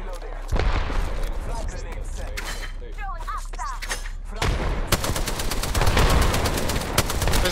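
Rapid bursts of gunfire crackle in an Apex Legends match, first a few sharp shots, then dense repeated firing that builds toward the end, with occasional voices underneath.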